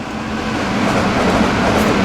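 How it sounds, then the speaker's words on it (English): Trains running in Train Simulator 2018 on a Kent route from Rainham: a loud, steady, close rumbling roar of trains in motion with dense wheel and rail noise, no talk. "Two trains are racing each other."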